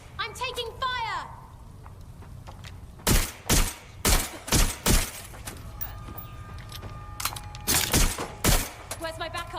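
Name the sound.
gunfire in Watch Dogs Legion video game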